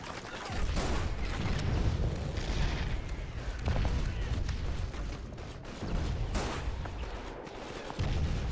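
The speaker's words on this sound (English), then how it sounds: "Let me throw a grenade, see what that does." Battle noise in Call of Duty 2 during a World War II mission, with a grenade blast among heavy, continuous rumbling booms and gunfire, loud and sustained with sharper hits scattered through it.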